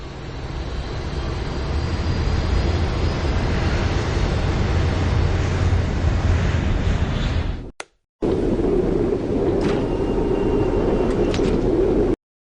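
Steady roaring airplane engine drone in the video game Nobodies: Silent Blood as the plane takes off, loud and continuous, broken by a brief cut before the hum resumes.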